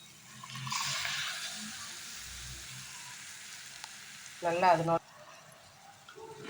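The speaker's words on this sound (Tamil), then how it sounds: "இப்போது நம்ம அரைச்சி வச்ச மசாலாவை ஊற்றிடலாங்க" Ground masala paste for a broad bean gravy sizzles and crackles in hot oil, a steady frying hiss with a brief louder burst of bubbling near the end.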